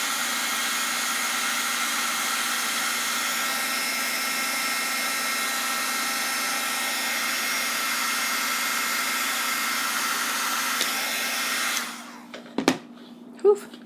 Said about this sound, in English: move your heat gun around so that it doesn't give the bubbly, milky look